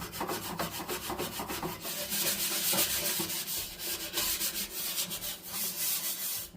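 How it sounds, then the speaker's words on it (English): Steady, close scrubbing scrapes across the inside surface of a household oven, a continuous rough rubbing with a quick back-and-forth rhythm and no speech. "I'm trying to scrub"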